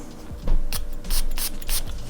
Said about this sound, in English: Let's go ahead and spray this on.